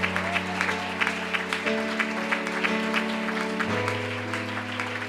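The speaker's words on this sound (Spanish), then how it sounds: "Dele ese aplauso fuerte a Él" A church congregation at a convention service claps steadily together over sustained organ or keyboard chords, the applause rhythmic and continuous beneath the music.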